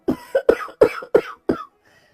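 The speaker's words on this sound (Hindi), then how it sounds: "तभी खटिए पर से बूढ़ा रामा खांसते हुए" An old man coughs five times in quick succession, dry and close, each hack short with a brief gap before the next, fading to quiet at the end.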